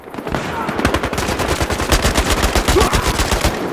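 Rapid bursts of automatic gunfire from a Battlefield war video game, dense and loud with rattling repeated shots throughout and no pauses.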